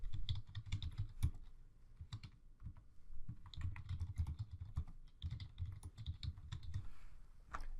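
Fingers typing a project name on a computer keyboard, a quick, irregular patter of close, quiet keystrokes in short bursts with brief pauses, and no voices.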